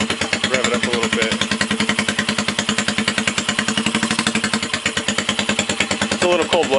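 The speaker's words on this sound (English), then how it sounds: "let me rev it up a little bit" A custom CCW Heist motorcycle engine, cold and deep-toned, runs with a loud, rapid, rhythmic lumpy pulse, revving up and settling close to the microphone; a voice briefly comes in near the end.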